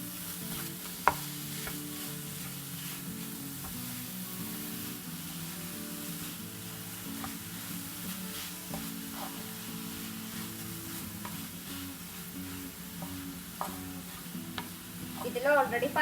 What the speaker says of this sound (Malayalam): ഇതും കൂടി ചേർത്തിട്ട് നമുക്ക് നന്നായിട്ടൊന്ന് മിക്സ് ചെയ്തെടുക്കാം.